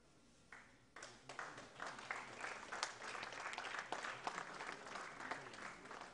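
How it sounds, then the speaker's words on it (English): A crowd at an education summit's inaugural session breaks into applause, rising after a second into a steady wash of many hands clapping, distant and fairly faint. "A generous round of applause, please."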